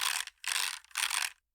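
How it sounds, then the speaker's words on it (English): Fingers sliding across the keycaps of a Keychron K1 keyboard fitted with Gateron Red switches give three close, bright rattling sweeps of rapid plastic clicks, each about half a second long with short gaps between them, and no other sound. "a little bit if you like slide over the keyboard."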